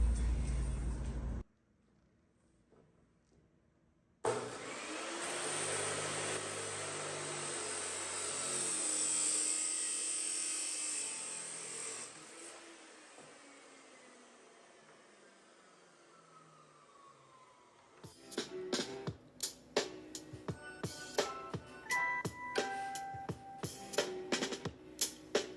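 A power tool cuts through both sides of a Kombi bench bed, a loud, steady, high-pitched whine lasting about thirteen seconds after a short pause, then fading into scattered clatter and handling knocks.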